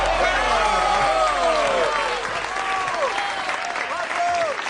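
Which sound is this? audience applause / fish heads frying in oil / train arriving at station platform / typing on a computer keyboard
audience applause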